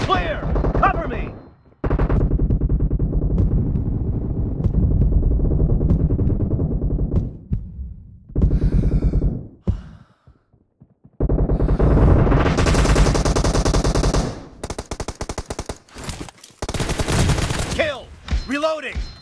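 Heavy video-game gunfire: long sustained automatic bursts, loud and close, broken by short pauses and single shots, with dense rapid volleys toward the end and brief voices mixed in.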